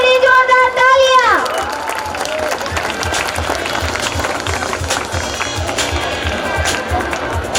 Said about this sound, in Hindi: हमारे बच्चों के लिए जोरदार तालियां।